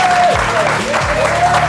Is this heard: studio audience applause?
yes